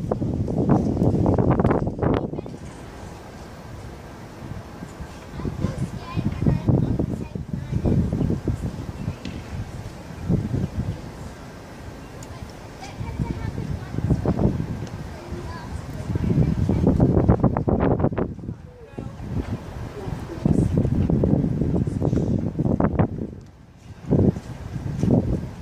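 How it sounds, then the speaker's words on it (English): Gusts of wind buffet the microphone in rumbling bursts, loud and uneven, rising and falling over a steady outdoor background on a windy hilltop beside a coal train line at Thornton. "Apologies about the wind. It's very windy up here."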